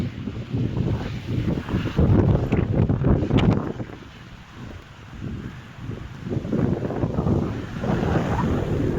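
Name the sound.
strong wind blowing at the seaside beach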